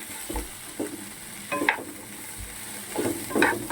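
Cleaned, cut okra tossed and stirred in a hot frying pan, giving a few bursts of scraping and sizzling at close range over a steady background hiss, with no voices.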